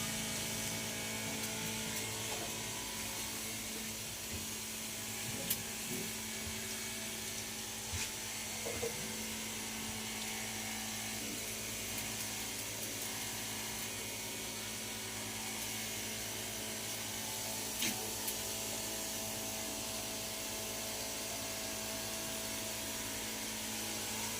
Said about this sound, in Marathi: आता मी तुम्हाला दाखवतो आपण फवारा या ठिकाणी चालू आहे का बंद आहे